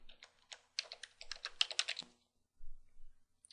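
A password is typed as su on a computer keyboard in a Fedora Linux terminal. Quick, fairly close keystrokes come in a steady burst for about two seconds, then stop, followed by a short low rumble.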